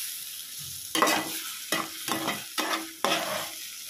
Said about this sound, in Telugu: ఇలా బాగా కలుపుకుంటూ ఉండాలండి పొడి పొడిలాడే వరకు.